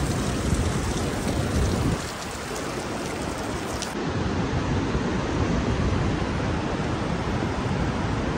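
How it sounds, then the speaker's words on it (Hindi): Steady rain falls on a mountainside, a dense, even hiss that dips briefly near the two-second mark before returning at full strength, with no voices. "और यहाँ हो रही है बारिश, सिर्फ पहाड़ के इतने इतने हिस्से में।"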